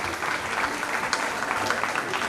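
A school concert audience claps in a brief, steady burst, dense and moderately loud, with a few sharper claps and faint crowd murmur.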